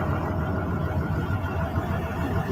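A 1995 truck with an N14 Cummins engine and a 9-speed transmission runs at a steady, even idle, a continuous low rumble close by with no talk over it.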